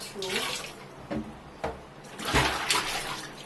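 Running water rinses in a sink, splashing in uneven bursts close by at moderate loudness, with light handling knocks between the pours.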